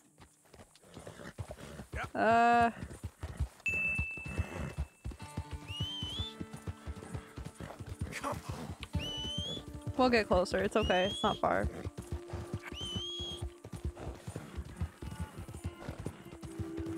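Horse hooves clip-clop steadily through a Red Dead Redemption 2 game scene, with a brief loud neigh or whinny early on and occasional whistles, while someone talks over the hoofbeats throughout.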